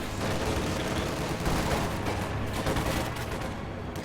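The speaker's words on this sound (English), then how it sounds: "G43s firing on conscripts." G43 rifles firing on conscripts in a WWII strategy game, a dense continuous crackle of overlapping gunfire heard at a distance throughout, with no clear single shots standing apart.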